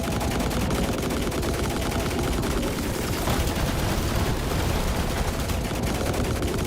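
Dense, continuous gunfire from the video game The Last Caretaker, a loud unbroken fusillade of rapid shots lasting several seconds with no pauses and no voices.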